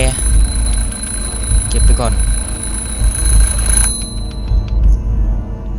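A steady electronic alarm clock ringing in the horror game Home Sweet Home, with repeated beeping tones under game sound and a voice talking over it, before the ringing cuts off near the end.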